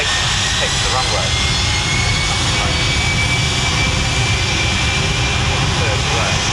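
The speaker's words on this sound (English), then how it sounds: "this time the Globemaster G, more prosaically, C-17A. That takes the runway." A Boeing C-17A Globemaster jet transport taking the runway at an RAF Leuchars air show, its heavy jet engines giving a loud, steady roar and whine throughout.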